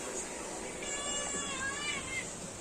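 A house cat gives a single drawn-out, wavering meow near a window, rising and falling over a steady background hiss.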